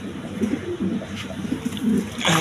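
Several pigeons of mixed breeds, kept in a cage for breeding and sale, coo in repeated soft throaty bursts close by, with a brief louder rustle at the end.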